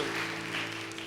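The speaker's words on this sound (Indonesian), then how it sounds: "Tepuk tangan dong yang paling luar biasa ya." A church audience gives a brief burst of applause, dense clapping heard fairly faintly for about a second, with a faint steady hum underneath.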